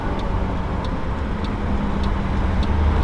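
A 1973 BMW 3.0 CSL drives in afternoon traffic with a steady, close interior engine and road rumble, overlaid by a regular, faint ticking like an indicator clicking about twice a second.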